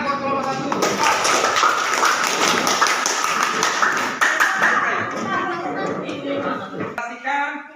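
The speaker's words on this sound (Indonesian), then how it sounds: "Tepuk tangan buat kelompok" A classroom group applauds together, dense overlapping claps filling the room at a steady loud level, with a brief pause near the end before a few more claps return.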